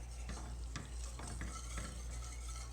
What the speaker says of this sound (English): Take it completely off the heat,